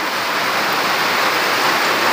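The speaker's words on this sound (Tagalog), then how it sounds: "nagpasilong muna kami dahil malakas yung ulan niya" Heavy rain pours down during a net fishing trip on a small boat, a dense, steady hiss of drops that stays loud and unbroken throughout, with no voices.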